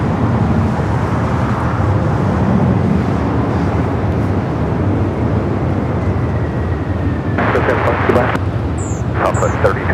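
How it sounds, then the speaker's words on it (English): An American Airlines A321 arriving at LAX from Philadelphia makes a broad, steady jet roar that fills the scene, with a few faint chirps near the end. "Next arrival, American Airlines flight 2944 coming from Philadelphia in the A321"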